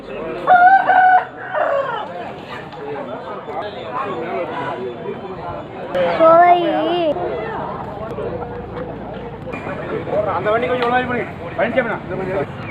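Roosters crow loudly and native chickens cluck nearby amid a busy crowd, with people talking throughout the noisy poultry market at Padiyur, Tiruppur.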